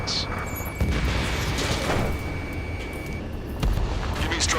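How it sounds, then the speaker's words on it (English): Gunfire and explosions in the video game Ace Combat 7: Skies Unknown, heavy booming blasts and cracking shots layered over a dense rumbling battle din, with a couple of sharper impacts standing out. "Gunfire and the roar of jets echoing through the streets."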